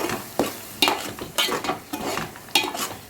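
A spoon scrapes and stirs through prawn curry as coconut paste is mixed in, uneven bursts of clatter and wet scraping over a soft sizzle, close by and without speech.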